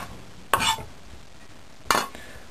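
Pieces of tofu, onion and mushroom dropped into a pot of boiling soup, two short splashing plops about a second and a half apart over a faint simmering background.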